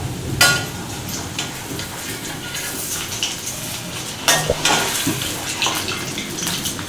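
Cauliflower pieces frying in oil in a pan for Gobi 65, a steady crackling sizzle with occasional clinks and scrapes of a spoon stirring, close and moderate in level, with no voices.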